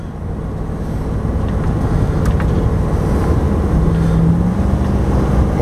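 A 1997 Roadtrek 190 Class B camper van climbs a steep hill, its engine giving a loud, steady low drone mixed with road and wind rumble from inside the cab.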